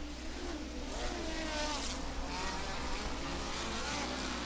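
Midget race cars at Valley Speedway, a steady, loud engine roar from the pack racing around the dirt oval, sustained and droning without a break, with no clear voice over it.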